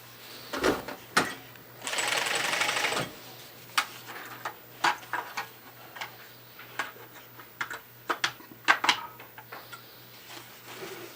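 Carpet binding machine sewing binding tape onto carpet, an irregular run of close mechanical clicks and taps with a short whirring burst near the start, fairly quiet and without talk.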